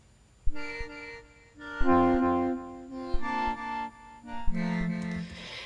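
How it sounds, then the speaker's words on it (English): A bright, layered future bass synth from the Alchemy instrument plays a short melodic phrase in sustained chords with a soft pulse, loud and alone with no voices. "I was looking for a future bass synth,"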